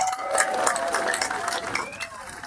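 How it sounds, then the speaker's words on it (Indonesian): An audience at an Anies Baswedan event in Jakarta gives a burst of applause, a broad rush of clapping and crowd noise with a voice speaking over it. "tepuk tangan buat semua yang hadir di sini"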